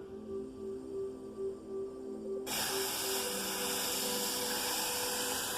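Eucalyptus water splashed onto hot stones inside a small sweatlodge bursts into a loud, steady steam hiss partway through, following a quieter stretch of low hum.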